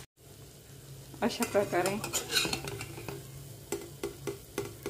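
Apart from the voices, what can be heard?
aloo vada frying in oil on low gas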